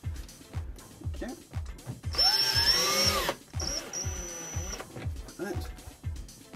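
A power screwdriver drives screws into a wardrobe hanging bracket, giving a loud whirring burst and a second shorter run amid knocks and handling noise, with someone talking between the bursts.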